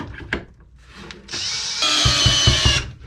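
A power drill drives a long half-inch galvanized lag bolt into the hull of a wooden boat, revving up in two rising stages and grinding steadily for over a second after a few faint knocks.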